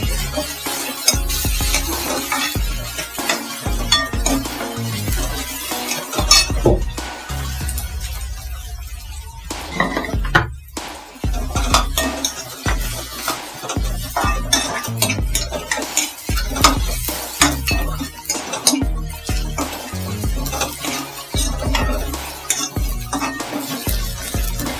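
Tomatoes added to fried onions sizzle in a pan while a spoon stirs and scrapes steadily, with frequent close metal clinks and scraping strokes over a constant frying hiss.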